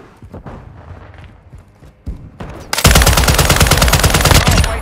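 Loud, dense automatic gunfire erupts in a video game firefight, a sustained rattling burst after a stretch of quieter scattered shots and movement.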